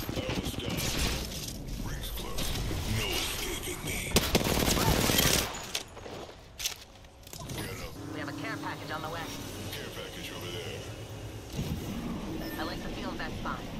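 Machine gun fire in the Apex Legends video game, with bursts of rapid shots and loud impacts mixed into dense game sound while a player talks over it.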